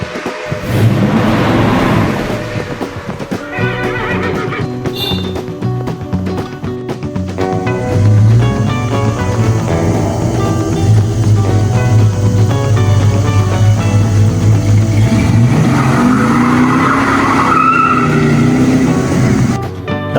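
1964 Ford Galaxie engine revving loudly and driving, sustained throaty roar with rising and falling pitch and tire noise, close and dominant throughout.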